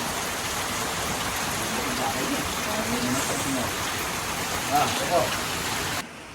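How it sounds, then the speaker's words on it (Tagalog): Steady rain from Typhoon Uwan hisses evenly throughout, with faint voices murmuring underneath, until the noise drops off abruptly near the end. "pero may ulan pa rin"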